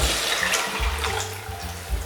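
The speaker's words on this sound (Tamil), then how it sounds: "நான் 1/2 லிட்டர் தண்ணி ஊற்றிருக்கேன்." Water poured into a pan of Mathi fish kuzhambu, a short close splashing gush running steadily for a couple of seconds over a low background hum.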